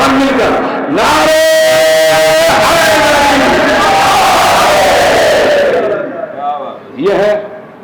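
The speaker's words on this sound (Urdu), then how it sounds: "ایسے نہیں, سب مل کر نعرے" A crowd at a Muharram majlis gathering in an imambara in Chandanpatti shouts a religious slogan together, loud and massed voices rising in unison, with a short second burst of collective chanting near the end.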